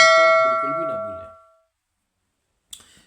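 A bell-style notification chime, a bright ringing tone that decays smoothly over about a second and a half before silence, close and clear.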